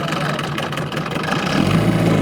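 An old two-stroke gasoline outboard motor runs at close range with a steady buzzing drone that grows louder and rougher near the end, as though revving.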